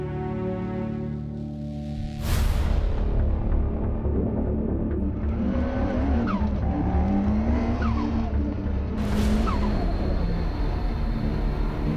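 A race car at an autocross event, its engine revving hard and accelerating with rising and falling pitch, loud and close, with tire noise and bursts of sound as it powers through the course.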